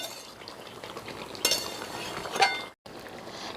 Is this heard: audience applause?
no